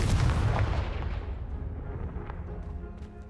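A Confringo explosive spell goes off in a fantasy video game: a loud, booming blast at the start that rolls into a decaying rumble of debris and reverberation over a few seconds, with no talking.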